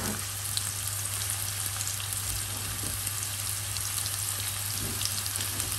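Sliced carrots drop into hot oil with ginger in a frying pan for sweet and sour fish, giving a steady, even sizzle with fine crackling pops throughout and no voices.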